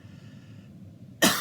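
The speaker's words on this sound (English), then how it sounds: "I laughed so hard telling that story I started coughing" After a moment of quiet breathing, one person gives a single sharp cough at close range.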